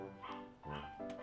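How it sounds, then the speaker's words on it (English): A pet dog barks and yips indoors in three short bursts about half a second apart, moderately close and fairly quiet, with no talking over it. "You can hear my dog barking because apparently he wants chocolate."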